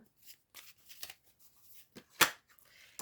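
Tarot cards are drawn and dropped onto a surface, a few quiet, scattered papery flicks and slaps with one sharper slap near the end, close and isolated with no talking.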